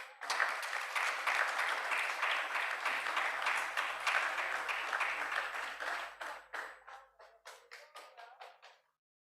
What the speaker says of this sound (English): Let's clap for ourselves, clap for ourselves.